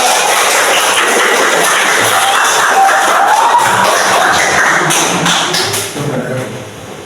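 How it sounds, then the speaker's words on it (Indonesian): A school class applauding in a physical education lesson, a dense burst of hand claps from many pupils that fills the room loudly and then thins out at the end. "Tepuk tangan semuanya."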